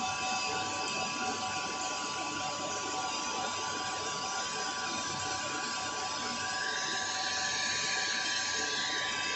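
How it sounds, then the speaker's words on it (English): A lathe hand-machines a bushing with a steady whine and dense hiss of cutting, constant and close, with a faint voice underneath. "I'm going to manually machine in the last section."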